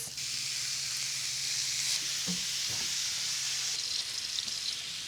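Chopped chorizo fries and browns in a skillet with a steady, bright sizzle, close by, and brief stirring clatter partway through, with no voices.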